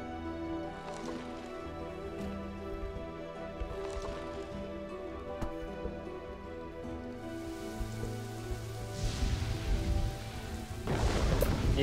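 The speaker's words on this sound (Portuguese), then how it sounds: "Eita, mais uma tempestade." Rain pours steadily during a thunderstorm in the city-building game Kingdoms and Castles, with a soft game music bed underneath and heavier rain and rumbling swelling loud near the end.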